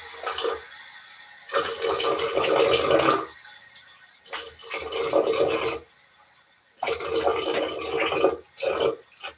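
Tap water runs in bursts at a sink as a face is rinsed during a wet shave, splashing loudly and close, with brief quiet gaps between the washes.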